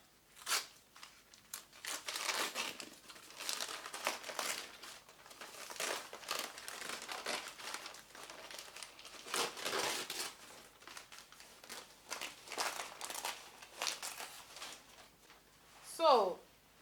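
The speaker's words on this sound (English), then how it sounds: "So it's time to remove the paper." Sewing pattern paper crinkles and tears as it is peeled away from freshly cut fabric for a short gown with a basque bodice, in bursts of rustling, crumpling and ripping spread across the clip, ending in one sharper tear.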